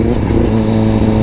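Honda CBR 1000RR-R Fireblade SP, a 200 hp sport motorcycle, drones steadily under a smooth throttle with a dense, continuous engine note and road rumble throughout, with no talk.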